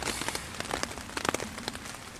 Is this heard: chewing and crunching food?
no